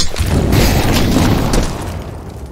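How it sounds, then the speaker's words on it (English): A grenade detonates in Counter-Strike: Global Offensive, a loud close boom with a rumbling tail that fades over a couple of seconds, with no talk. "Grenade."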